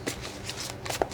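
Tarot cards being shuffled by hand at close range, a soft papery riffling with a few sharper flicks and slaps over a quiet room.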